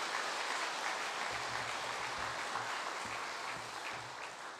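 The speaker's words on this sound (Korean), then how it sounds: "부활하신 주님께 영광의 박수 한번 올리겠습니다." Church congregation clapping together during an Easter service, a broad steady wash of applause that holds evenly throughout and tapers slightly at the end, with no voices over it.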